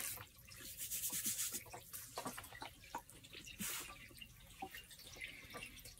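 Water being splashed and rubbed onto a pottery wheel bat, giving soft wet swishes, drips and scraping rubs that repeat irregularly at close range with no talking.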